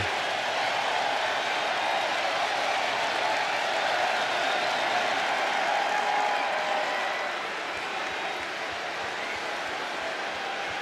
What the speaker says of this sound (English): The crowd is fired up, waiting to hear what he's got to say.